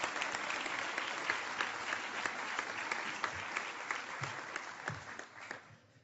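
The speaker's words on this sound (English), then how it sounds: "Let's start with a warm round of applause and thanking them for coming." A live audience at a United Nations LGBT youth panel event gives a warm, sustained round of applause, steady dense clapping for about six seconds that thins out toward the end.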